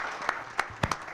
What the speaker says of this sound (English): Let's give Ruth another round of applause for sharing that